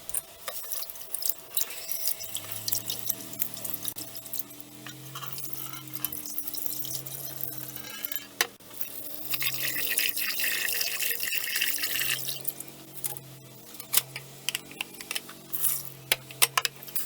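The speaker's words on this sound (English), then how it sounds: "Wash it thoroughly 2 times, then drain it and then dry it on a cotton cloth." Rice for coconut chakli is washed in water, with close sloshing and splashing of liquid and a few drips. A low background hum runs beneath, and there is no clear talk.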